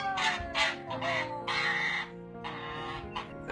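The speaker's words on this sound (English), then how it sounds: "Looks like you're being attacked by an angry goose." An agitated goose honks and squawks in loud, harsh bursts, several rapid calls close by, as it rushes at a person during a reunion with its owner.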